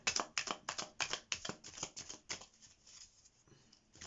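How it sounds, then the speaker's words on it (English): Tarot cards being shuffled by hand, a quick run of crisp riffling flicks in steady rhythm that grows softer and sparser toward the end, close and alone without talk. "We'll give them one more shuffle."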